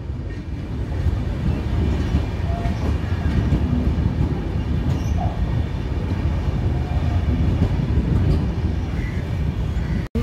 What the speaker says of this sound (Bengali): ট্রেনটি এখন ভুবনেশ্বরের আউটস্কার্টস দিয়ে যাচ্ছে,